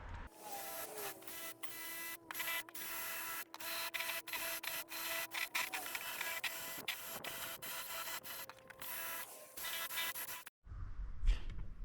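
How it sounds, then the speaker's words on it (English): A power drill with a bit bores out the spot welds on a cracked boot floor of a cheap BMW Z3, grinding in rough bursts through metal with short pauses before it stops. "So I'm going to clean the actual spot welds out first with that kind of drill bit."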